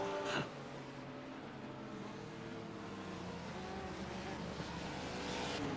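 A GT3 race car engine at Summit Point drones steadily while hitting the rev limiter, a constant buzzing tone sustained throughout against a wash of track noise.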